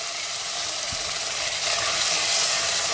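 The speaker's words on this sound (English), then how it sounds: "I'm going to give everything a stir round again" Chopped tomatoes, tinned tuna and pasta sauce are stirred in a pan, giving a dense, steady sizzling bubble with a soft utensil knock early on, close and fairly loud.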